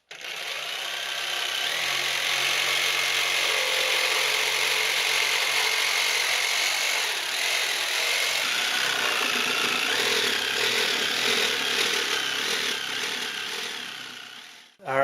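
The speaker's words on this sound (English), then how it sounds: "I just got done cutting out the side pieces with the jigsaw" A jigsaw cuts side pieces for a homemade toolbox from scrap wood, making a steady, close buzzing saw rasp that runs almost unbroken for about fifteen seconds and then stops abruptly.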